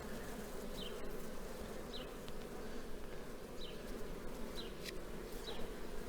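A dense, continuous buzz of many honey bees swarming close by at a queen-rearing hive, with occasional brief chirps over the steady hum.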